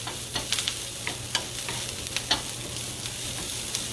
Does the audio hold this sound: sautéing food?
yes